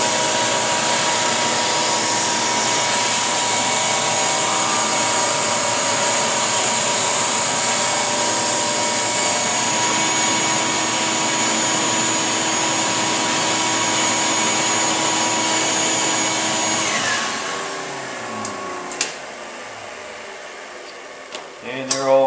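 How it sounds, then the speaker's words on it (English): A power sander smooths segmented wooden vase rings with a steady droning motor whine under a soft rushing hiss. The motor winds down near the end, leaving a few light clunks and taps. "Take one more pass. We'll have these 3 rings sanded."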